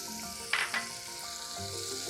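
Irish butter melting in a saucepan over medium-low heat, giving a soft, steady low sizzle with a couple of brief louder pops near the start, close by and without any talk.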